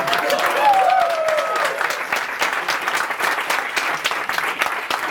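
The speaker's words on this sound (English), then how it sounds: "I want the loudest clap for that" Audience at a live show claps and cheers loudly for several seconds, a dense wash of clapping with a few whoops rising over it early on.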